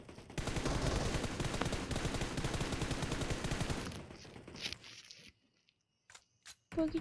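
Rapid automatic gunfire in a shooter video game rattles continuously for about four seconds, then stops, leaving a few scattered shots and brief bursts.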